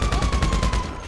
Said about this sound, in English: There's only one machine gun you'll ever need, and it's the Combat MG Mark II.